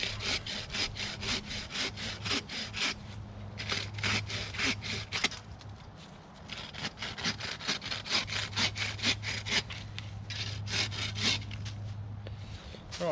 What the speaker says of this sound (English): So you can use the little Bako saws, or what they call it, a laplander.